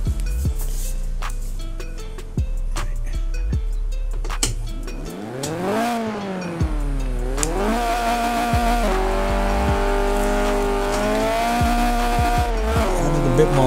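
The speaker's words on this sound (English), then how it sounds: "let's do the launch control downhill just to make it a little bit easier in the car" A 1993 Renault Clio Williams in Forza Horizon 4 makes a downhill launch control start, its engine revving hard and climbing through rising gear pulls with shift dips, tires squealing loudly, close and continuous with no talk.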